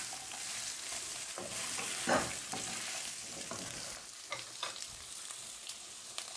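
Potatoes for a spicy green masala aloo cook over a very slow flame while being stirred, a steady close sizzle running throughout with scraping stir strokes and small clinks on top.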